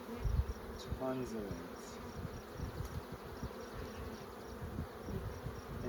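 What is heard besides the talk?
honeybees buzzing at an open beehive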